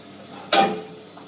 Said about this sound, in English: Chef put a little butter in the pan with the fish.